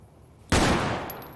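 A single loud gunshot cracks out in the Fallout: New Vegas video game, striking suddenly and trailing off in a long, rumbling decay.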